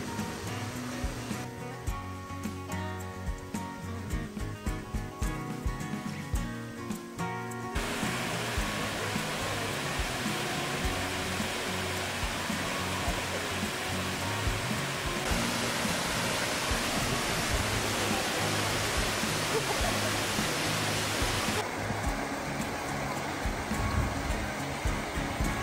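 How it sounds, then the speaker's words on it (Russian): Steady, broad rushing water of a waterfall in Lago-Naki, Adygea, roars continuously at close range, a dense hiss of falling water with no breaks and a slight shift in level partway through. "Подошли к первому водопаду."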